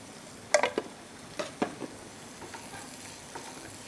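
Upma with a little red chili being stirred in a hot pan, a spoon scraping and clinking a few times over a soft, steady sizzle, fairly close.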